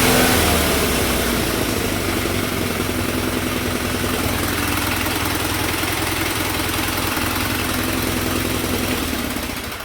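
A 1976 Sears SS16 garden tractor engine, once fire-damaged and left sitting half full of water, idles steadily and loudly with no throttle or choke, alone with no talking.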